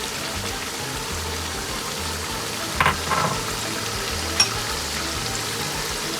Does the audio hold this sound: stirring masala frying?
yes